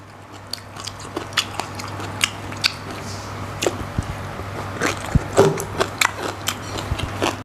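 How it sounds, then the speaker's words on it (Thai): Someone eats spicy green papaya salad with fresh shrimp, close up, with irregular crunchy bites and wet chewing sounds scattered over a quiet room with a steady low hum. "ตำบักหุ่งกุ้งสดเนี่ยตำบักหุ่งกุ้งสดพี่น้องเลยมีแต่บักพริกแดงๆ"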